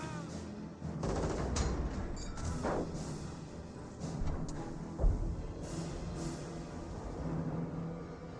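Suppressive fire from a squad in the World War II strategy game Company of Heroes, dense rattling gunfire and muffled thumps of battle under a steady din, with one louder hit near the end.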